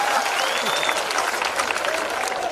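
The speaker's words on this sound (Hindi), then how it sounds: "ताली बजा" An audience at a comedy poetry gathering claps steadily in a thick, continuous patter, with faint voices and a whistle-like tone drifting underneath.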